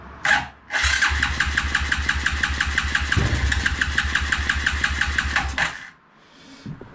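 A 1993 Suzuki King Quad 300 ATV with a no-spark fault cranks in a steady rapid chugging rhythm for about five seconds without catching, loud and close, framed by short bursts of starter noise.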